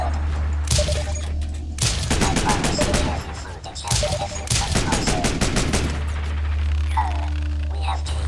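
Rapid gunfire in the side-scrolling video game Rise & Shine, loud bursts of repeated shots in clustered volleys with short pauses between, close and punchy over a steady low game hum.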